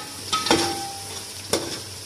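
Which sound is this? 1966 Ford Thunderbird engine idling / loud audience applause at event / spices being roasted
spices being roasted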